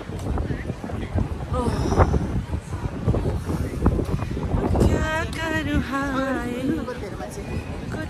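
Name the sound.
wind blowing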